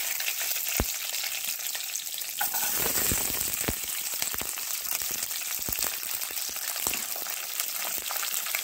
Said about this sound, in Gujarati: બધું આપણે સાતળવાનું છે